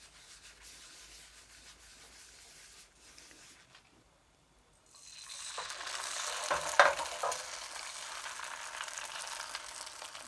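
A little cooking oil in a pan preheated over low heat: quiet scraping at first, then a steady hissing sizzle that swells partway through and continues.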